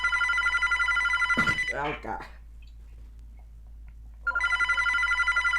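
An old-style telephone bell rings loudly in a steady rapid trill, breaks off while a person exclaims, then starts ringing again after a pause.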